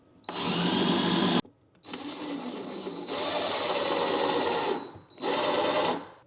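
A power drill whines in three bursts of varying length, driving trim screws into kitchen cabinets with high, steady motor tones and brief pauses between runs.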